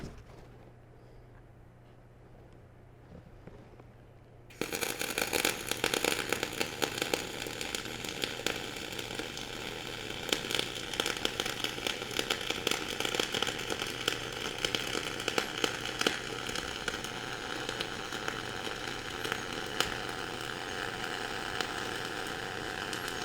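Flux-cored arc welding on a multi-pass T joint, laying a second pass along the toe: after a few seconds of quiet a steady, loud crackling sizzle starts and runs unbroken to the end, close up with no talk.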